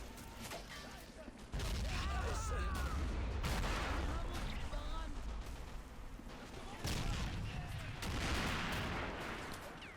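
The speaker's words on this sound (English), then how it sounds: "I definitely think the German mortars is aiming to do some counter-artillery, judging by the fact where the shells are now landing" Mortar shells and gunfire crash through a Siege of Fortress Brest battle in Men of War: Assault Squad 2, a dense, loud barrage of booming impacts and crackling shots with heavy rumbling bursts around the second and seventh seconds, continuous throughout.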